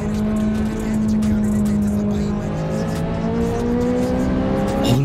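A Ferrari in Forza Horizon 5 roars close and loud, its engine holding a steady high note that climbs in pitch as it accelerates, with a faint voice underneath.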